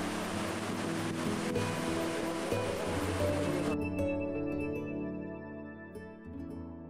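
Ocean surf rolls and breaks in a bay along a coast of beaches, a steady loud wash of water that cuts away abruptly toward the end, leaving quieter tonal sound.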